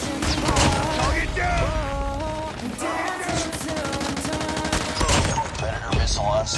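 Gunfire bursts and booms from a deployed sentry gun in the Call of Duty Mobile video game, dense and continuous with layered explosions, game music and voice callouts throughout.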